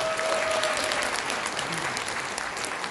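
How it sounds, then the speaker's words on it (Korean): An audience claps for two co-founders at a business meeting, a dense burst of applause that holds steady through the short stretch with a faint voice behind it. "두 분의 공동 창업자분들께 정말 너무나 큰 감사의 박수 부탁드립니다"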